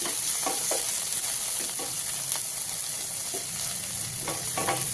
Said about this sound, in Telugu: కొద్దిగా కొత్తిమీర, కరివేపాకు కూడా వేసి మరొకసారి బాగా ఫ్రై చేయండి